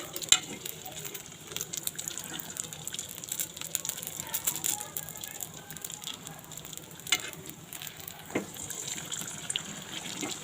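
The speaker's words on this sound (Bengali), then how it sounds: "এটা কিন্তু ভাজতে খুব একটা সময় লাগে না" Chicken buns deep-frying in oil on a stovetop give a steady, moderately loud crackling sizzle, with a few sharper pops and faint clinks of utensils over about ten seconds and no talking.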